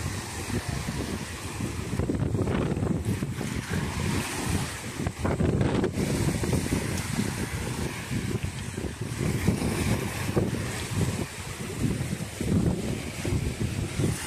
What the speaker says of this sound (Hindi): लहरों की आवाज भी आप लोगों को आ रही होगी पानी की